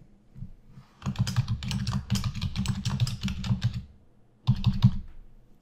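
Quick bursts of clattering keystrokes on a computer keyboard, close and clear, two runs of rapid typing separated by a short pause.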